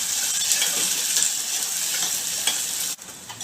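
Onions sautéing in a pan for instant sambar, a steady, close, bright sizzle that holds evenly throughout with a faint metallic tap near the end and no talk.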